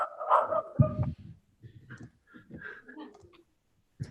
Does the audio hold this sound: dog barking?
yes